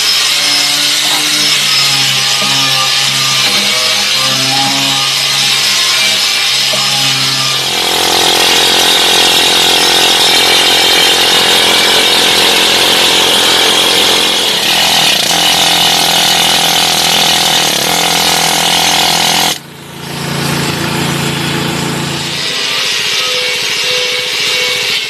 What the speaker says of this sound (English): So now I'm going to get into the wire wheel.